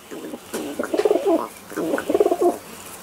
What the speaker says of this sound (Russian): Ты только и делаешь, что квакаешь.